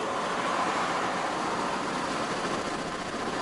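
Steady wind buffeting and road roar fill the cabin of a BMW iX electric car at speed, a dense, continuous rushing noise with no engine note, loud and unbroken throughout.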